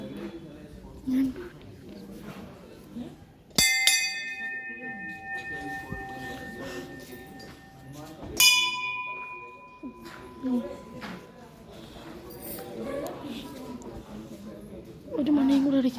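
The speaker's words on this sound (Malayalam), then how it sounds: "ചെരുപ്പൂരി മണിയടിക്കാൻ പോവുകയാണ്" A temple bell in Mysore is struck twice, each a sharp metallic clang near 3.5 and 8.5 seconds that rings on with a sustained tone, while people talk around it throughout.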